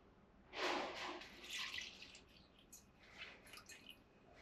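Distilled spirit trickles through a filter lined in a funnel, giving soft, close drips and small splashes that bunch together, then thin out into sparse patters, faint and with no voices.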